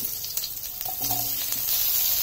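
Chopped onion and cumin seeds frying in a pan of hot oil give a steady, close sizzle with a few soft clicks of stirring, and no voices.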